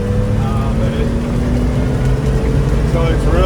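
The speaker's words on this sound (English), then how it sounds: "we're going to head out onto the highway and get up to highway speeds. So you can see it accelerates nice and easy." A 1984 Jeep CJ7 engine with a granny-low four-speed accelerates smoothly onto the highway, a steady droning hum with gradual pitch rise, heard continuously from inside the vehicle.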